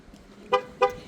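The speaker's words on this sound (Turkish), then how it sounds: "İkinci kilitte Korna selamlar" Two short, close horn toots from a 2015 Ford Focus as it locks, sounding in quick succession, the second following the first by about a third of a second.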